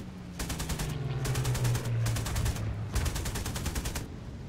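Aircraft machine guns firing in War Thunder from a French VB.10-C prop fighter, four rapid bursts of chattering fire separated by brief pauses, over a steady droning engine.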